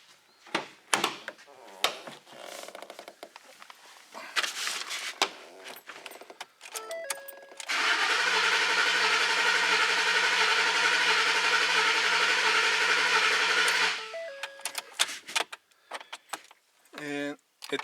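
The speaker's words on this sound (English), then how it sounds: "And it does have a slight oddball cranking sound." A 2013 Ford F150 engine with its fuel pump relay removed cranks without catching for several seconds in a steady, loud, slightly uneven whir, with clatter and handling noises before and after.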